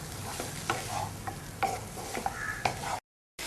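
Masala-coated lamb chops with turmeric being stirred in a hot pan: a steady sizzle broken by repeated scraping and clinking strokes of a spoon, close and clear, with no talking.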